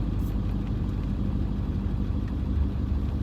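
An OBS Ford truck with a 7.3 engine rolls down the road, its steady low rumble droning continuously with no talk.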